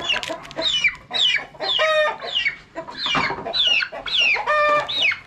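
Farm turkeys sick with fowlpox give a run of close, repeated clucking and yelping calls in short bursts with brief pauses between them.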